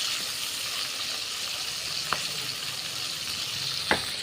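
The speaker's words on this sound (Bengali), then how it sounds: "এবার আমরা চিংড়ি মাছটা ভেজে নেব।" Prawns frying in a pan make a steady, bright sizzle throughout, with two short sharp crackles or spatters at separate moments, and no voices.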